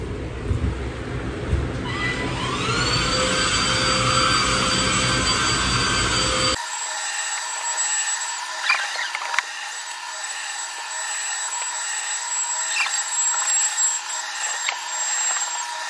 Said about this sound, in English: now it's vacuum time.